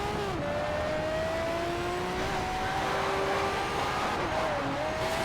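Race car engine in Need for Speed: Shift holding a steady high drone that rises and falls as it drafts and overtakes another car, with tire noise and a second engine close by, continuous throughout.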